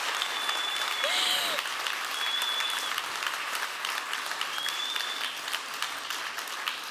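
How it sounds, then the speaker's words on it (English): Applause from the audience at a humanitarian innovation pitch event in Luxembourg, a steady dense clapping wash that holds for several seconds with a few faint high tones over it. "round of applause to all the pitches tonight, to all the teams"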